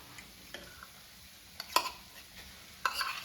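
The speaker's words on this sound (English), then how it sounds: "mix until the mushrooms are coated with sour cream and everything is combined" Sour cream is stirred into garlic mushrooms in a pan for a mushroom stroganoff: quiet, close scraping with a few sharp spoon taps against the pan over a faint background, with no voices.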